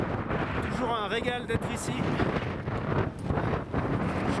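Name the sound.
wind on the Mont Blanc ridge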